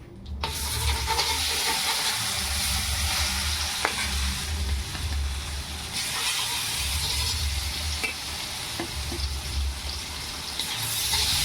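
Pieces of tuna fish frying in oil in a pan for tuna biryani, giving a steady, loud sizzle and crackle that runs throughout with small bursts and pops, and no talking.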